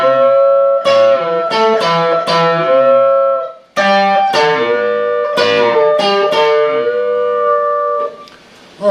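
Guitar playing the opening measure of a solo, with bluesy string bends and a country feel, in two loud phrases of plucked, bending notes separated by a short pause, played alone without talk.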